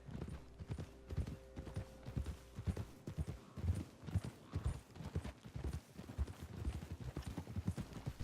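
Horse hooves clip-clop steadily on the ground in the Red Dead Redemption 2 video game, a brisk continuous rhythm of close, clear hoofbeats over a soft background hum.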